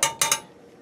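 A pressure cooker lid is shut after cooking beef and elbow macaroni, giving three quick metallic clicks close up, the last fading into quiet.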